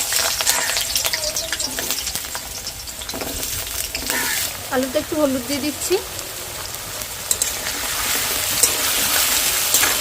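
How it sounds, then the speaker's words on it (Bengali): Potatoes fry in hot mustard oil in a wok, a steady sizzling hiss running throughout with occasional stirring scrapes, while someone talks over it. "বন্ধুরা তেল ভালোভাবে গরম হয়ে গেছে আলুগুলো প্রথমে ভেজে তুলে নেব"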